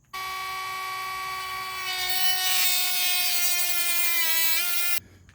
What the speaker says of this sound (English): So we know where to Dremel.